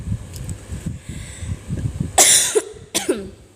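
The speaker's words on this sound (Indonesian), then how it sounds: "bentar saya batuk dulu" After a low murmur, two sharp, loud coughs ring out close by, one right after the other.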